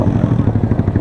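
Stock Honda Grom small-bore motorcycle engine at a drag racing event, a close, loud, steady buzzing drone with a rapid pulsing throb, running throughout with no pauses.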